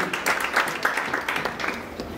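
A congregation claps as Bishop Jane enters, brisk crowded applause with a rhythmic pulse that carries steadily through the short moment, and faint voices mixed in.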